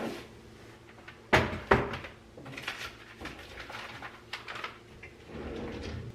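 Household odds and ends are pulled out of a junk drawer, giving scattered clatters and knocks with two sharper bangs early on and lighter rummaging after, no voices.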